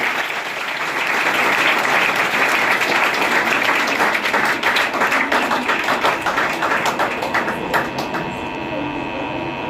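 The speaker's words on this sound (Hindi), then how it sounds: "आप एक बार इनका ताली बजा के स्वागत करें" An audience in a coaching class claps steadily and loudly for nearly ten seconds to welcome students selected for ITBP wireless operator posts, a dense continuous patter of many hands.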